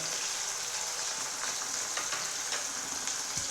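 Green chillies, crushed garlic and shallots fry in a pan for an ivy gourd mezhukkupuratti, giving a soft, continuous sizzling hiss with occasional faint stirring scrapes.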